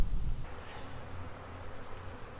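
Honey bees buzz around an open hive during queen grafting work while nurse bees are shaken down through an excluder, a steady close insect drone with a brief louder burst at the start.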